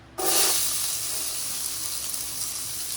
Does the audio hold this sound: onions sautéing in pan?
yes